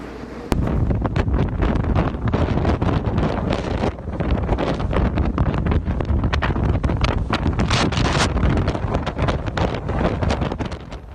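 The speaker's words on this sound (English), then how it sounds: "Listen to that wind come on shore." Strong hurricane wind coming onshore at the coast, roaring and buffeting the microphone in loud continuous gusts with heavy rumble, filling the whole stretch with no voices.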